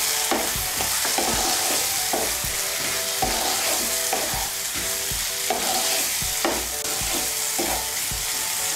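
A whole onion drops into hot oil in a pan and sizzles steadily as a spoon stirs it, the scraping strokes coming in a regular rhythm over the constant frying hiss.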